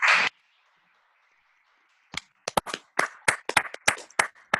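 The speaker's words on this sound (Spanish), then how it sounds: "le brindemos un aplauso entre todos" Scattered hand clapping from a small audience after a medical talk on urethral stricture. A few separate sharp claps grow into a sparse, uneven round that stays close and fairly thin.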